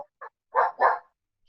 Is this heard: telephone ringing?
no